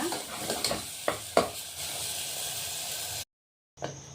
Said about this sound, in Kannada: ಮಸಾಲೆ ಎಲ್ಲ ಎಣ್ಣೆಯಲ್ಲಿ ಚೆನ್ನಾಗಿ ಫ್ರೈ ಮಾಡ್ಕೊಳ್ಳೋಣ 1-2 ನಿಮಿಷ.